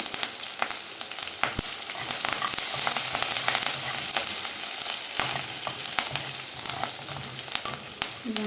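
Curry leaves frying in hot oil for a tomato pickle, a busy sizzle full of sharp pops and crackles with occasional clinks of stirring.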